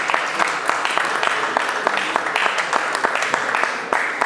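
Lively applause from an audience at an NGO launch ceremony, many hands clapping with distinct sharp claps standing out, fairly close, with speech faintly mixed in.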